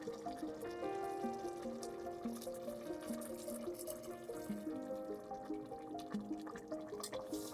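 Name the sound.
pouring warm water into pot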